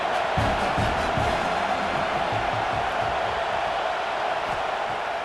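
A stadium crowd at a Big Ten football game between Maryland and Michigan State roars in a broad, steady wash of cheering, moderately distant, with no clear talk on top.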